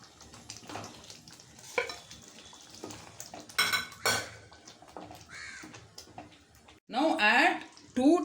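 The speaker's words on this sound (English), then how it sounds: "Now add the boiled potatoes to it and mix well." Spoon scraping and clinking in a pan as boiled potatoes are stirred into tomato kurma, intermittent soft scrapes and taps with faint frying sizzle, plus a few louder clattering bursts near the end.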